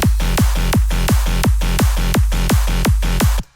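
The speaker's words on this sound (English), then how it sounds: "Then there is classic off bass" Classic off bass bouncing between steady four-on-the-floor kicks, low notes falling on the offbeats in a tight repeating groove, loud and upfront until a sudden cutoff.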